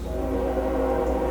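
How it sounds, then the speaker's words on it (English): A passing train rumbles low and steady at close range, loud and unbroken, with no voices over it. "Train's back."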